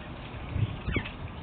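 A starling mimics a cat-call whistle, a brief rising-falling whistled sweep near the middle of a short clip over low background noise, with a soft chirp just before it.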